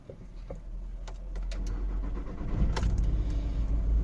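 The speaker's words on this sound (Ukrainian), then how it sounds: "Поставив я стартер, нагрів автомобіль. Пробуємо." A hot VW Caddy 1.9 TDI diesel with a hard-starting fault cranks and then catches into a low, steady idle rumble, close by and alone, with faint clicks over the top.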